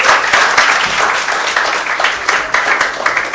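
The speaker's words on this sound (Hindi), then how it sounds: "आप लोग ताली तो बजाइए इसके लिए एक बार।" An audience at a student felicitation event claps loudly and continuously, with dense overlapping hand claps that rise and dip slightly but never stop.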